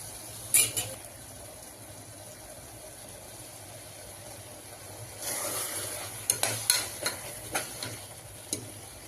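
Tomatoes sauté in a pan over low sizzling while a utensil stirs and scrapes, with sharp clinks and knocks against the pan scattered through the second half.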